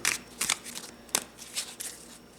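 Black-backed cards from the Pathogenesis board game being shuffled together, with a few quick riffling bursts of close, crisp paper flutter separated by short pauses, and no speech.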